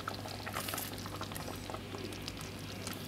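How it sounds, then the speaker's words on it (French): Apricot jam boils in a pot with a continuous dense bubbling and popping, close and steady, with no voices. "On va la porter à ébullition et une fois qu'elle bourra, on va la garder pendant une vingtaine de minutes à petit bouillon."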